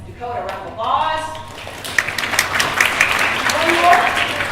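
A classroom of students claps in a round of applause that rises after a spoken line, the claps dense and moderately loud for several seconds with some voices mixed in.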